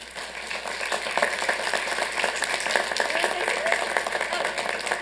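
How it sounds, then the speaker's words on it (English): Applause rises from the audience at a Santa Ana city council meeting, a brisk crackling clatter of many hands that swells slightly and keeps a steady busy texture throughout, with no speech heard. "So please give them a round of applause."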